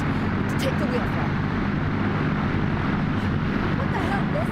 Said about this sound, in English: Amelia, the left engine's down.